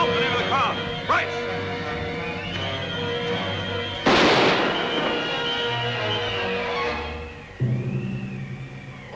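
Gunshots ring out in a staged radio drama shootout, a sharp blast standing out near the middle and a second crack toward the end, each followed by a short decay, while actors talk and music plays underneath.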